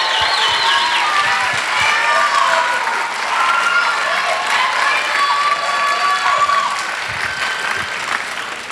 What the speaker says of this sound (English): I think these candidates deserve another round of applause.